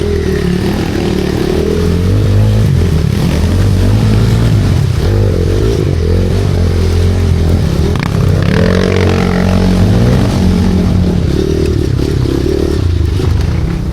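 A motorcycle engine roars loudly and steadily up close as the bike pushes through a fast river stream, its revs rising and falling over clattering and splashing water.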